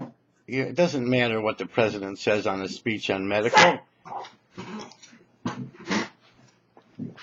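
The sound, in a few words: dog barking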